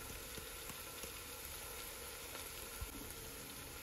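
Oil and ingredients fry in a pan for methi pulao, giving a steady close sizzle with faint crackles throughout.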